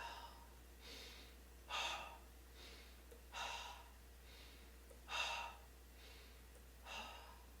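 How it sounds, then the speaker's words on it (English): Forceful exhalations in an energizing, cleansing breathing exercise: four strong breathy bursts at even intervals, each followed by a softer breath, close and clear against a quiet background with no talking. "This is an energizing, cleansing practice. Ready? Let's exhale all the air out."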